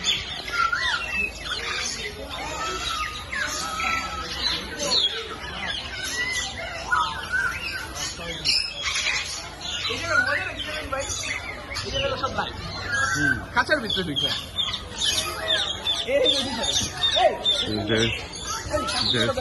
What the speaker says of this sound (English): There's yellow parrot.